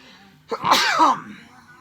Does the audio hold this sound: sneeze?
yes